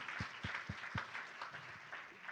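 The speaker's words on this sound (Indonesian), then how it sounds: "Tepuk tangan sekuat-kuatnya buat Tuhan kita yang baik." A church congregation claps along during a sermon, with steady rhythmic claps at first and then looser applause, quiet and somewhat distant in a large hall.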